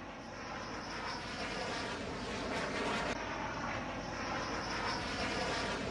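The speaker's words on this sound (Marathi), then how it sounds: "शत्रूच्या काळजात धडकी भरवणारी अशी ही लढाऊ विमानं आज भारतामध्ये दाखल झालेली आहेत" A Rafale fighter jet arriving at Ambala Air Force Station gives a continuous, loud roaring engine drone that holds steady across the whole stretch with no speech.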